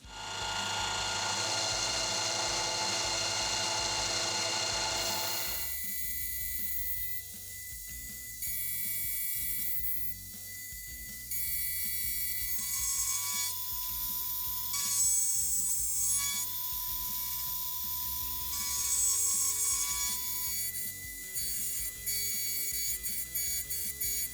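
A machine cutting metal while roughing out the shoulder of a V-block arm, starting with a loud dense grinding roar, then dropping to a steadier whirring cut with rhythmic ticking and faint whining tones.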